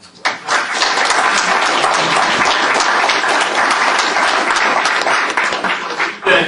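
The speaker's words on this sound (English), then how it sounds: "giving these panelists a big round of applause" Sustained crowd applause for panelists at an agriculture event, loud and dense, continuing steadily for several seconds before tapering briefly and swelling again at the end.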